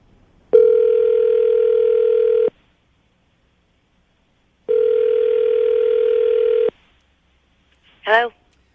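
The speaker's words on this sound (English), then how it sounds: "I'm going to dial the phone number" Two long steady telephone tones a couple of seconds apart, each about two seconds, followed by a brief chirp; quiet between.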